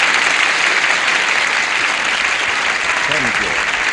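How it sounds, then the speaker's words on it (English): Studio audience applause on a 1970s television game show as a contestant is welcomed, a loud, dense, steady burst of clapping with a voice briefly starting to speak near the end. "Applause, applause, applause."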